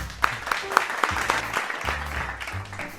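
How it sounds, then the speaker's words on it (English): Applause at a virtual community coffee house performance event, scattered distinct claps with a few sharp peaks over a low background hum and faint voices, sounding thin and somewhat distant. "copious amounts of applause is highly encouraged."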